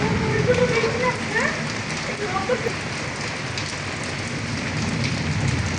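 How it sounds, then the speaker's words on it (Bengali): Steady rain falls everywhere around a house, a dense continuous patter on surfaces at even loudness, with faint voices in the background. "এই অবস্থা, চারদিক বৃষ্টিময়"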